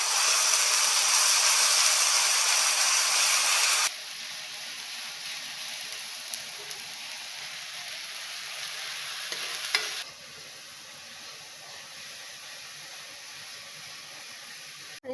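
A paste of ginger, garlic, onion and chili sizzles and fries loudly in a hot pan, a steady crackling hiss that drops in level partway through as it is stirred, with no talking.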